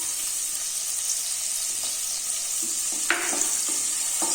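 Chopped spring onion whites sauté in a pan for chilli chicken, sizzling continuously up close, with a few scraping stirs toward the end.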